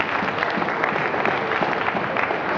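An audience at an anime convention closing ceremony claps steadily and evenly throughout, a dense, fairly distant wash of applause with no speech over it.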